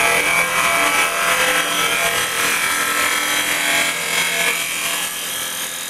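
A carbide cutter scrapes across a small wooden bowl spinning on a lathe, a bright continuous hissing, rasping drone, loud and close, holding steady throughout.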